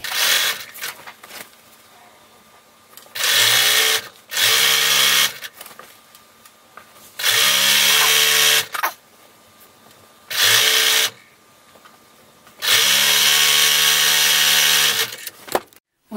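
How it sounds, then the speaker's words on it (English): A sewing machine stitches the side seams of a child's robe in five loud, close bursts of steady whirring, each a second or two long, with quiet pauses between. "you are going to do the side seams of the robe and the side seams of the sleeve"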